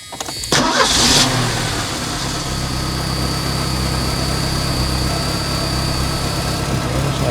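A car engine that recently overheated cranks briefly, catches and starts, then settles into a steady running idle close by.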